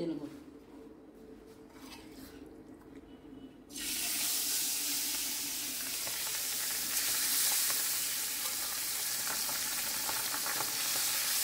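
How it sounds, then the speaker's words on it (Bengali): Pabda fish dropped into hot mustard oil in a pan: after a few seconds of quieter kitchen sound, a loud, steady sizzle bursts in and keeps up to the end, close by, with no talking over it. "তেল গরম হয়ে গেছে, এখন মাছগুলো ভেজে নেব।"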